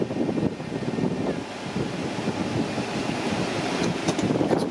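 A car's air conditioning blows steadily from the vents while parked, a continuous even rush of air close to the microphone with no talking.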